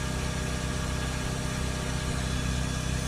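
A Citroen Relay 2.2 diesel van engine runs steadily close by, a dense, even low rumble holding constant for about three seconds with no clear rise in revs.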